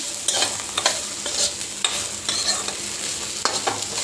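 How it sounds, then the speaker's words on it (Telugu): Chopped capsicum fries in a pan for semiya upma, with a soft, steady sizzle broken by repeated scraping stirs of a spatula, close and alone. "ఒక కాప్సికం చిన్న కాప్సికం అన్నీ చిన్నగా తరిగి పెట్టుకున్నాం ముందుగానే ఇవి మంచిగా వేయించుకోవాలి"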